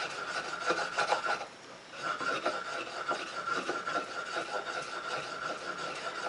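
A new DeWalt wood chisel is hand-honed on a fine sharpening stone with rhythmic back-and-forth rasping strokes. They are close and fairly quiet, briefly pausing once before the steady scraping resumes, with no speech.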